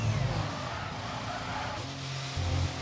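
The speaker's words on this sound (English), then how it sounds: "You can hear it, the tyres do not sound good at all" Race car tyres squeal through a corner at the Circuit of the Americas in a racing video game, the worn rubber making a steady, loud scrubbing whine over engine drone for a few seconds.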